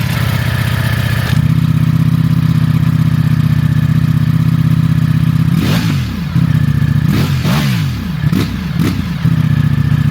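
A Ducati Streetfighter V4S idles with a steady low rumble, then its engine is revved in first gear several times, sharp rising and falling blips in quick succession, loud and close with no talking.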